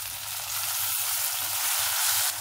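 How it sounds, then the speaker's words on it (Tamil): Tomatoes land in a pan of golden frying onions for a chicken-free chana biryani, giving a broad, steady sizzle throughout with a faint rhythmic low thumping underneath and no talking. "இப்போ நம்ம தக்காளியை சேர்த்துக்கலாம்."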